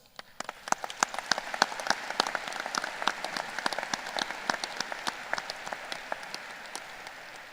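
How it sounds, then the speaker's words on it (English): Applause from a school commencement audience, a steady patter of many hands clapping at moderate distance, beginning sparse and quickly filling in, holding an even crackling density throughout. "can we get a quick round of applause for all the amazing people that have placed in your lives?"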